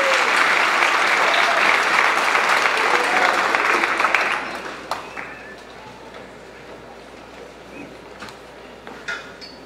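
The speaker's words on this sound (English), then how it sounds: "Let's give her a round of applause for her." An orchestra concert audience applauds pianist Ann Nichols, a loud dense round of clapping for about four seconds that quickly dies into scattered claps and quiet room noise.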